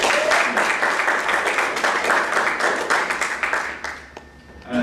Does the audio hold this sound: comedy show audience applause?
yes